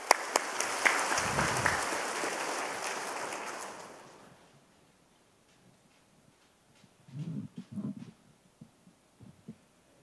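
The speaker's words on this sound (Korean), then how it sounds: "우리 뜨거운 박수로 맞이하겠습니다." A church congregation at a Sunday service applauds, a dense burst of clapping for about four seconds that fades out, followed by quiet with a few low thumps.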